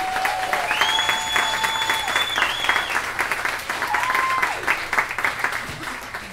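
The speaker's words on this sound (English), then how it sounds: "So if you guys could start clapping again, get it going real loud for Matt Ward" Comedy club audience applauding for a comedian at a pub in Houston, steady full clapping throughout with a few whoops and whistles rising over it.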